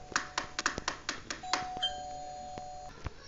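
Doorbell ringing inside Roblox Brookhaven, a clear electronic chime with a held tone amid a cluster of quick clicks and taps, moderately close.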